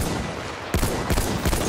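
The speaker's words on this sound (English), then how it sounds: "There's an enemy machine gun!" An enemy machine gun fires in Battlefield 1, sounding as a few short loud bursts of gunfire that cut through constant dense battle noise.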